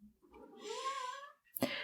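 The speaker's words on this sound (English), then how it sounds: "If you hear a cat in the background" A domestic cat meows nearby, one drawn-out rising and falling call followed by a sharper short cry, alone against a quiet room.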